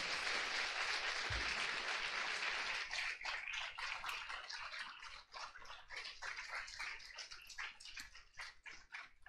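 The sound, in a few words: audience applause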